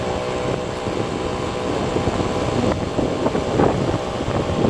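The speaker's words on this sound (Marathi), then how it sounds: "हा पंप चालू झालेला" A motorised spray pump runs in a steady, loud mechanical drone with a constant engine-like roar, heard alone without any voices.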